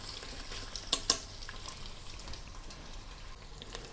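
Pork ribs searing in a multi-cooker used as a pan, a soft low sizzle with a couple of sharp clinks near the start and faint shuffling movements, fairly quiet throughout.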